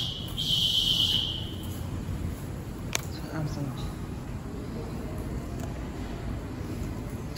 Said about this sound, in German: Alarmsound, der Alarmsound.